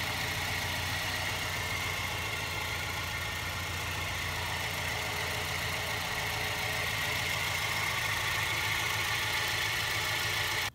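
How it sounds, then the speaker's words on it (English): A 1977 Volvo 343 engine idles steadily with a throaty, raspy exhaust note from a worn rear box that needs replacing, a continuous close rumble with no talk. "There you go, fires into life. It sounds really exhausty because the back box needs to be replaced."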